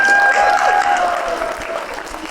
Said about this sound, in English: I want you to give yourselves a round of applause for being here